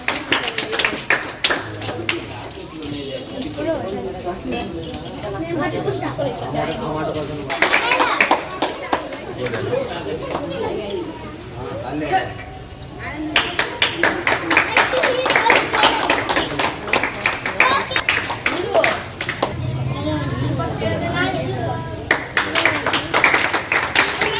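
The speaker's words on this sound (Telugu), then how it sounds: "చప్పట్లు కొట్టాలి చప్పట్లు కొట్టాలి" Children clap and chatter during a karate medal ceremony at a school in Giddalur, bursts of clapping rising between stretches of lively kids' voices and adult talk, fairly close and busy throughout.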